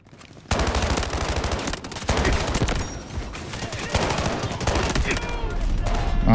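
Rapid automatic gunfire in the mobile shooter Delta Force Mobile, loud sustained bursts with brief pauses and overlapping shots, continuing throughout.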